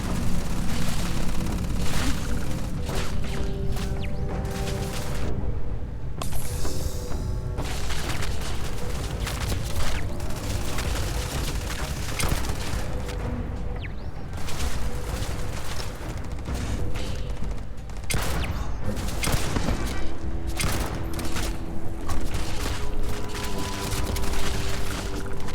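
A modified Lawgiver gun in Starfield fires dense, continuous bursts in a loud, cluttered battle mix of shots and booms, with no pauses.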